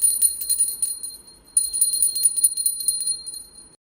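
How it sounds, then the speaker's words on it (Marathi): A small metal puja bell rings loudly and close up in two bright, shimmering bursts of rapid strokes, separated by a brief pause. Each burst fades before it ends. "हे आहे बेल ह्याचा आवाजसुद्धा सुंदर येतो"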